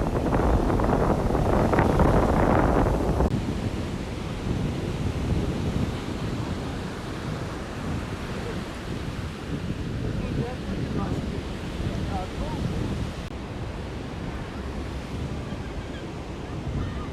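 Mediterranean sea waves roll onto Sitges Beach in a steady, broad wash of surf, with heavy wind buffeting at first that settles into a continuous outdoor roar.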